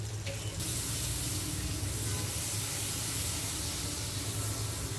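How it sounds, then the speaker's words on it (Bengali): Butter sizzling and hissing steadily in a hot pan, melted to fry marinated chicken malai tikka; a continuous broadband frying hiss with a low hum underneath, no talk. "তো বাটার দিয়েই ভাজছি আজকে আমি।"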